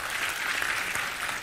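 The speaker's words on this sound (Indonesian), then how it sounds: "Kita semua tepuk tangan untuk Mbak Puan." An audience at a large gathering claps in a short, steady burst of dense applause heard from a distance.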